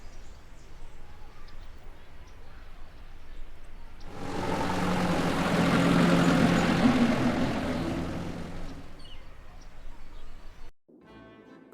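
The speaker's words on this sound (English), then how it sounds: "Gabriel picks up his tickets at the airport and boards a plane for Munich." An airplane engine in the Gabriel Knight video game swells from a quiet background into a loud droning roar, then fades away before cutting off abruptly.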